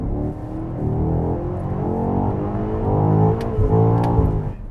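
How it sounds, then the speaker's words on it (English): A 2020 BMW X5M Competition engine, with the cabin's pumped-in engine sound switched off, heard from inside as a steady low drone that swells slightly in pitch and level, fairly muted. "here's what it sounds like when it's off"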